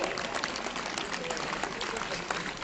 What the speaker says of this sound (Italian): Un bel applauso alla nostra Madonna.